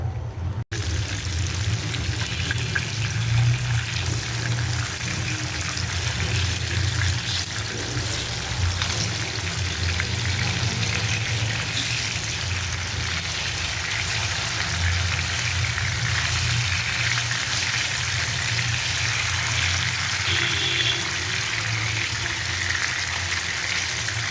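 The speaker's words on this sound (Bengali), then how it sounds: "ভালোভাবে উল্টে পাল্টে ভেজে নিব" Marinated rohu fish pieces fry in hot oil in a pan, giving a steady, close hiss and crackle that runs unbroken for the whole span.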